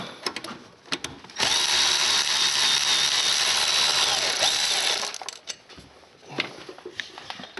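A power wrench spins off bolts on an Eco Diesel diffuser tube in one sustained whirring burst of about three and a half seconds, loud and close, surrounded by clanks and metallic tool handling.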